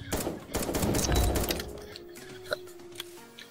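Gunfire in the online voxiom.io shooter game, a dense burst of rapid shots that thins out into a few scattered single pops near the end.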